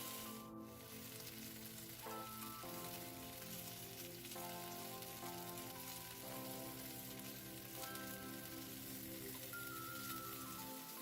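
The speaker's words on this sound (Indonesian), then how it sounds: "Ini dibalik, kita panggang kembali sampai kedua sisinya matang." Chicken pieces for ayam bakar kalasan grill over a kitchen stove, giving a steady soft sizzle and crackle that runs unbroken throughout, with no voices.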